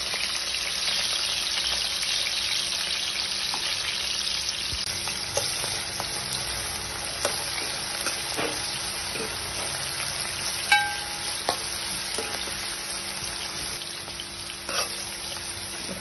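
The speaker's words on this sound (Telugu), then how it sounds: "హీట్ అవగానే మనం కట్ చేసి పెట్టుకున్న ఉల్లిపాయలు, పచ్చిమిరపకాయలు" Chopped onions and green chillies fry in hot oil for a chicken curry, giving a steady, dense sizzle throughout with a few light stirring clicks and scrapes, no voices.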